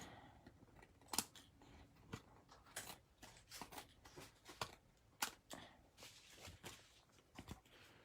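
Scissors snipping excess cardstock in a crafting session, a run of quiet, close, irregular crisp cuts with faint handling rustle between them.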